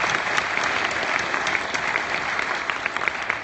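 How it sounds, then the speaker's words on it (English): Sustained audience applause at a trading seminar, steady dense clapping from a crowd throughout, fairly close and loud, with no talking over it. "Let's give another round of applause here for Josh."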